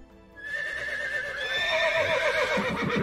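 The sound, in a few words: horses neighing loudly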